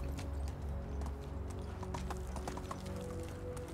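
Rapid horse hoof clip-clops in the video game Medieval Dynasty, a steady galloping rhythm over a low droning music bed throughout.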